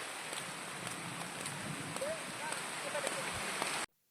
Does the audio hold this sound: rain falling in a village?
yes